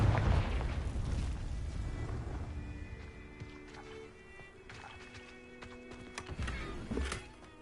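A spell-cast explosion in a fantasy video game: a loud blast opens, then a long rumbling decay with rattling debris, and sharper bursts flare again near the end.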